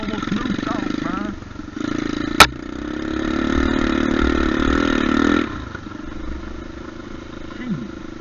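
A motorcycle fitted with a cheap stunt clutch and shifter idles and revs hard during a wheelie test, engine rising to a sustained loud roar after a sharp click, then dropping back to idle.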